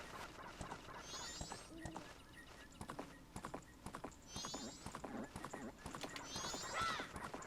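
Horse hooves clip-clop steadily in a Legend of Zelda video game, with several short neighs and whinnies rising over the rhythmic trotting, close and clear without talk.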